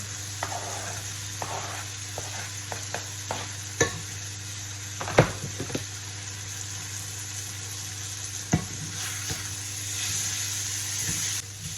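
Onions sizzle and crackle steadily in a hot pan, with occasional sharper clatters of a utensil stirring against the metal.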